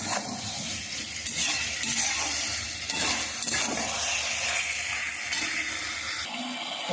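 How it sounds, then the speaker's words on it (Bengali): Vegetables fry in spices in a pan, giving a continuous close sizzle and hiss broken by scraping stirring strokes, with no voices. "ভালো করে কষিয়ে নিলাম সবজিটা মশলা দিয়ে"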